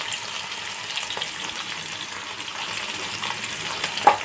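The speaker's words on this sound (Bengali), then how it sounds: "মাছ ভাজার পরে সেই তেলেই দেখো পাতলা পাতলা করে কেটে রাখা আলু আমি অল্প একটু নুন আর হলুদ দিয়ে আমি ভেজে নেব।" Thinly sliced potatoes with salt and turmeric fry in oil left over from frying fish. A steady, soft sizzle runs close by, and a sharp pop comes near the end.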